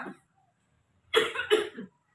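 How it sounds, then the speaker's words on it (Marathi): Two sharp coughs close by in quick succession, preceded by a faint bit of voice. "खोकला लागला होय"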